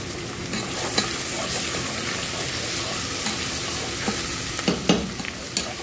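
Garlic frying in hot oil for a fish masala, a steady close sizzle with brief stirring clinks and scrapes of a spoon against the pan near the end, no talk.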